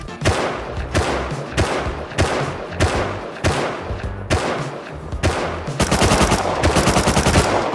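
Rapid automatic gunfire in the video game Rust, loud and close, with bursts of shots repeating across the whole stretch and a faster, denser volley near the end.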